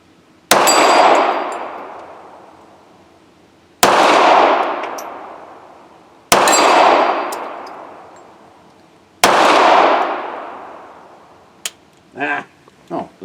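A Sig Sauer P365 .380 pistol fires four loud, sharp shots spaced a few seconds apart, each ringing out in a long reverberant decay, followed by brief voices.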